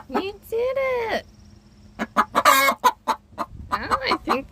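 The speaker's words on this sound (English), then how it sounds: "I've heard chickens do a bird song after they lay eggs" A backyard free-range hen clucks loudly right after laying an egg, drawn-out squawking calls followed by a run of sharp rhythmic clucks, close to the microphone with a person talking in between.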